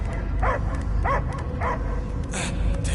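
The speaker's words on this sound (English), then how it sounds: "I hear only barking." A dog barks in Guardians of the Galaxy, sharp single barks repeating about every half second, a few in a row and then more, over a low rumbling game backdrop.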